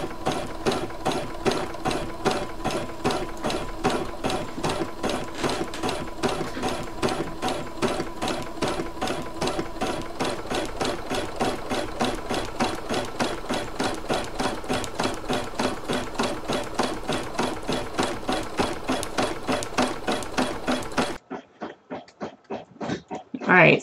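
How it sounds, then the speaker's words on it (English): An embroidery machine runs a satin stitch on a towel, a steady rapid mechanical chatter of needle strokes that carries on evenly for about twenty seconds before stopping abruptly, followed by faint quieter handling noises. "while that's stitching that pretty satin stitch"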